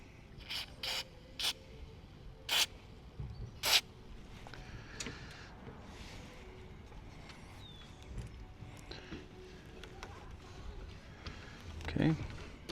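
Aerosol can spraying grease onto the gears of an RV awning motor, several short hissing bursts close by, followed by quieter handling and rustling.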